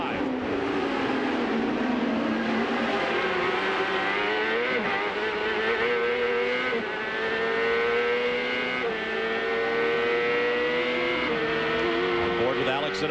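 CART race cars roar through a street circuit at Toronto in 1998, a loud continuous high-revving engine whine with shifting pitch as they accelerate and brake, with a commentator talking over it.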